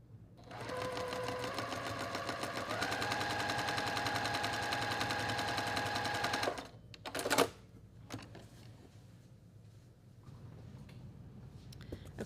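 A sewing machine stitches quilt block pieces in a close, loud, steady run of rapid needle strokes for about six seconds, shifting pitch once. It stops with a brief clatter and fabric handling, and quiet room sound follows.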